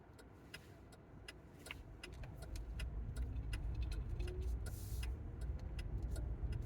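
A car drives along a highway toward Colorado, engine and tire noise rising to a steady close rumble inside the cabin, with light clicks and rattles scattered through.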